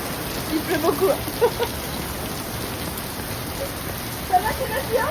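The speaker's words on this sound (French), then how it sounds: "Il pleut beaucoup." Heavy rain pours steadily throughout, a dense hiss with scattered louder drops and patters standing out near the start and end.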